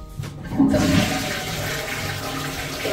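Hotel toilet flushing close up, a sudden whoosh of rushing water that starts after a brief quiet moment and then swirls and drains steadily.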